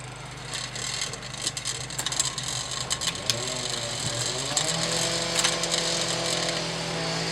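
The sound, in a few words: bicycle chain rubbing on the derailleur while pedalling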